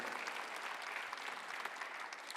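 A church congregation at a Sunday worship service applauds together in a soft, continuous patter of many hands, steady and somewhat distant, with no speech over it.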